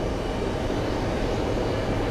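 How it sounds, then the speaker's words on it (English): Steady broadband roar of a Swiss airliner jet at JFK airport, a continuous, fairly loud engine rumble with no break across the whole stretch. "There's our Swiss plane."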